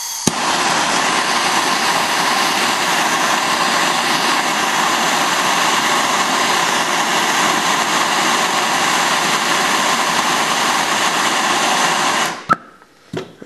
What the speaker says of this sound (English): So I'm just going to heat it up with a torch, and then try to melt solder with it.